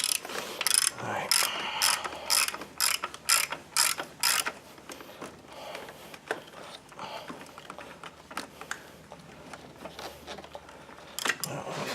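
A ratchet undoing the top alternator stud on the 3.8L engine of a 2001 Buick Park Avenue, heard as close bursts of sharp ratcheting clicks broken by short pauses, with faint background noise.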